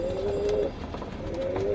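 Pigeons coo nearby, two soft, low, rolling calls separated by a brief pause, with no talking.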